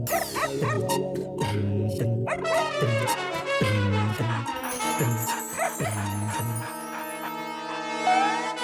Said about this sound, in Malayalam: എന്റെ നിധി കണ്ടുപിടിക്കുന്ന ഡോഗേ, വാടാ, ഇങ്ങ അടുത്തേക്ക് വാടാ